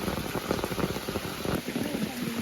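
Steady rain falling outdoors during a night of crab catching, a dense close patter of drops hissing evenly throughout with no voices.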